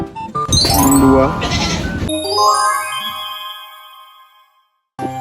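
Goats on a dairy goat farm bleat loudly in overlapping calls for about two seconds, then a single drawn-out bleat trails off into quiet before another sound starts.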